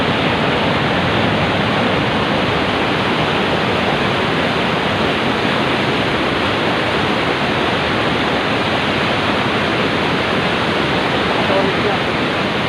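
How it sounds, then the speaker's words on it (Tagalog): Makibato Falls in the Sierra Madre mountains gives a loud, dense, unbroken roar of falling water, steady and close throughout, with no voices clearly heard. "Makibato Falls"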